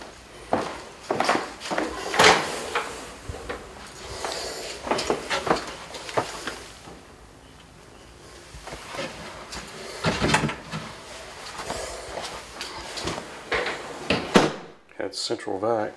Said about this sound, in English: And these doors open